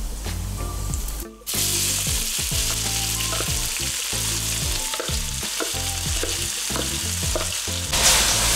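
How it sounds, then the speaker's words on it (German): Spices sizzle and crackle in hot oil in a pan for a lamb and onion dish, a dense frying hiss with stirring clatter and scraping throughout, loud and close. "Dann braten wir die Gewürze an."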